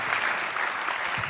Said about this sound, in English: So can you give this gentleman a lovely round of applause?